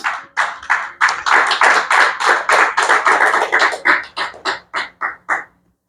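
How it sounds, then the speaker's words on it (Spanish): Congregation applauding in church, loud close rhythmic clapping in quick regular beats that gradually thins and slows before stopping. "Denle un aplauso al que vive"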